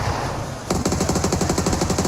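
Rapid automatic rifle burst in PUBG Mobile, starting abruptly after a short lull and continuing as an evenly spaced rattle of loud, close shots.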